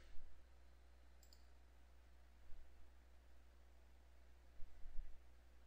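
Sparse computer mouse clicks, a few faint, isolated taps scattered over a steady hiss with no talking.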